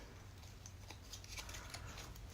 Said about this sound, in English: Peel this back.